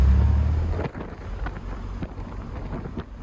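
Engine rumble of an old car driving home from the mountains, with wind buffeting in through the windows as a heavy low roar that stays steady and close throughout, no voices.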